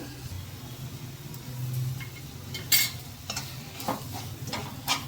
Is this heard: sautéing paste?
yes